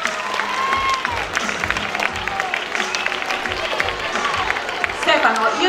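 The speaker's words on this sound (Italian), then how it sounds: "E allora fate un applauso, dai!" Audience clapping and some cheering at the evening opening ceremony of a football tournament in Scalea, a lively outdoor crowd with voices and calls mixed through the applause.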